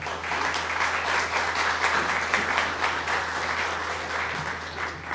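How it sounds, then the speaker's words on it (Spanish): An audience at an academic lecture applauds the invited guest speaker, steady dense clapping from many hands filling the room at even volume without pause. "un aplauso para el invitado"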